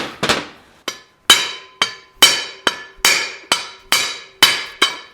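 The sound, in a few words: sledgehammer striking brake hub on 1941 Mercury spindle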